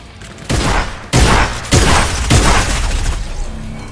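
A big boar enemy in a shooter game fires four loud, evenly spaced blasts about half a second apart, each leaving a rumbling tail, with no voices over them.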